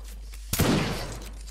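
A musket volley from the ranks during a Leib Guard Semyonovsky Regiment reenactment drill, one sudden outdoor blast that rolls and echoes for about a second before fading, over a steady low hum.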